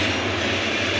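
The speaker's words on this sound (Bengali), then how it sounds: "সোনার Bangla express, Mymensingh express, Karnaphuli express, Dhaka mail, Sagarika express, Laksam কমিউনিটর, Jehanabad express, local train ইত্যাদি চলাচল করে এই রোড দিয়ে" A passenger train running along a Bangladeshi railway line near Feni, giving a continuous close, loud rumble of wheels and carriages with a steady low drone and no voices.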